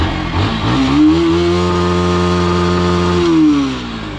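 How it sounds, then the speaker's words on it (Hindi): A Bajaj Pulsar NS160 motorcycle's exhaust note swells as the engine revs up, holds a loud, steady high-pitched drone close by, then drops back toward idle. "तो चलो एक बार इसका एग्जॉस्ट नोट सुन लेते हैं कि इसका एग्जॉस्ट नोट कैसा है।"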